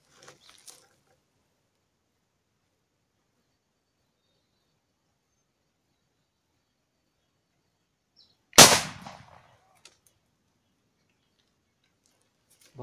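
A pellet gun fired at a target: one sharp, loud crack stands out in near silence, with a faint click or two earlier.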